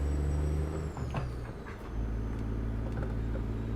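Detroit Diesel Series 60 engine in a Peterbilt 389 truck, a Zeemods sound mod in a driving game, rumbling steadily up close with a brief dip in revs and a hiss like an air brake partway through.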